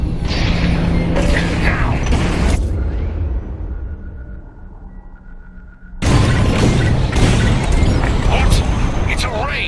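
Loud booming blasts from bombs dropped in the Star Wars Squadrons space combat game, with heavy rumbling bursts before and after a brief lull, while a voice calls out over the noise.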